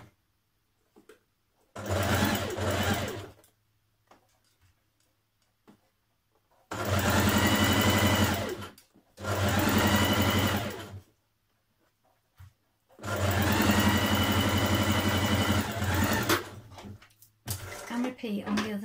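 Sewing machine stitching a Simplicity 1316 blouse, three long steady bursts of fast whirring motor and needle chatter, close and loud, with pauses between runs.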